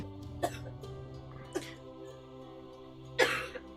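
Three short, separate coughs from a person at a tabletop role-playing session, spaced apart over a few seconds, with the last one the loudest, set against a quiet room with a faint background hum.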